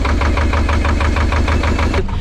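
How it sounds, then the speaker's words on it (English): An old Lister HR2 narrowboat engine chugs loudly and close by in a steady knocking rhythm, then cuts out abruptly near the end. "my engine is really, really noisy. It's an old Lister HR2."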